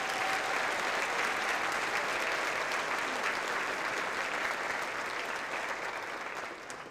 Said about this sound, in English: Let's give them a round of applause for their service.